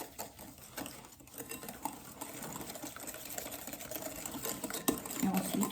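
Flan batter of sugar and vanilla sugar being mixed, giving a steady, close whirring and churning that runs the whole time and builds slightly toward the end, with no talk.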